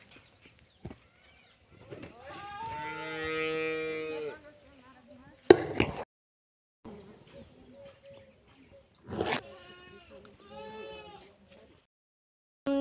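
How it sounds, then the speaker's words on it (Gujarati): Goats bleating on a farm, several loud nearby calls rising and falling in drawn-out wavering cries, separated by short pauses with a couple of sharp knocks and faint rustling. "તો તમે જોઈ શકો છો આ બાજુ ને આપણે બોકડીએ બેઠા છીએ।"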